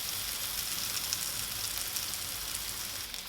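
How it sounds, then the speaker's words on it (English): Garlic frying in a pan alongside mushrooms, a steady, dense sizzle and crackle that holds at an even level throughout with no talk. "And now I'll add in the garlic and just fry that"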